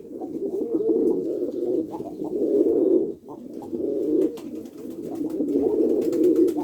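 Pigeons cooing continuously in soft, throaty rolling phrases, fairly close, with a brief pause midway and no talking.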